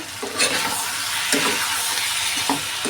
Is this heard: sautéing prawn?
yes